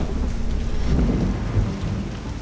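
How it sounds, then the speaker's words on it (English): Heavy rain pours down on a wilderness survival shelter in a dense, steady wash, with a low rumble of thunder rolling underneath and no voices. "It's absolutely downpouring."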